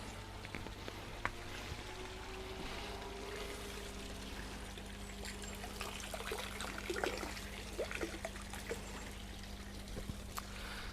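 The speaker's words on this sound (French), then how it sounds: "je passe devant à le verser tout simplement dans le bassin" Liquid poured from a bottle into a garden pond gives a soft, continuous trickle and splash, quiet and close, with a few brighter drips near the end.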